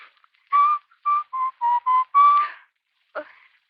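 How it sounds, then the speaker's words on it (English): A person whistles a short run of clear, separate notes, close by, followed by one brief breathy attempt after a pause. "the best way to keep from crying is to whistle"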